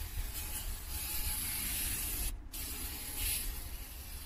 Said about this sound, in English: I give it another quick spray down. Get all the crap off there.